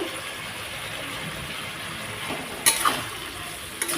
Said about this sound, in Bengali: এখন এটা ভালোভাবে একটু কষিয়ে নেব